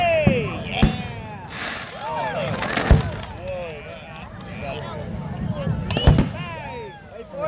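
Consumer fireworks fired from tubes, a set of sharp launch thumps and booms spaced a few seconds apart, with crackling and whistling trails between them and people talking excitedly throughout.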